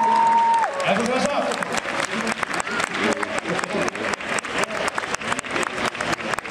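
Sustained applause from a large crowd at the Love FM music festival in 2015, many hands clapping steadily, with a voice heard briefly at the start.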